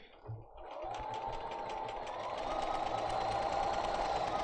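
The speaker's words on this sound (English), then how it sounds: "And I'm going to start my very first sew line." A sewing machine starts with a brief whir, then runs steadily at a rapid, even stitching rhythm, sewing a line on a Pocket Full of Posies quilt pattern.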